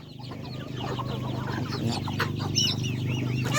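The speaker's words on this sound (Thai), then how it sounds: "ไก่ตัวใหญ่มันเตะ กุ๊กกุ๊กกุ๊กกุ๊กกุ๊กกุ๊ก" Chickens cluck steadily at close range in a rural farmyard, with several overlapping calls over a constant low hum and general background noise.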